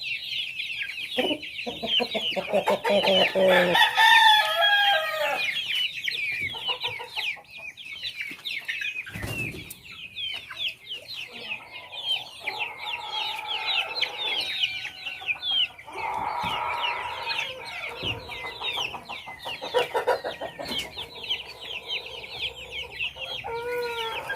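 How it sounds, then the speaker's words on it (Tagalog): Free-range chicks and hens on a small poultry farm fill the air with constant high peeping and clucking, a dense nearby flock that chirps continuously with occasional louder calls and some wing movement. "So ito na po yung mga sisiyo ng mga chicken, no?"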